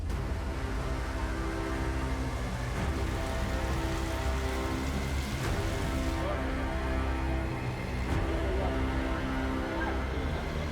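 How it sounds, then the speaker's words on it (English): Heavy rain from Hurricane Mitch pours down in a dense, continuous hiss of drops striking surfaces, steady and enveloping for the full length with no breaks. "But that was before the rain started."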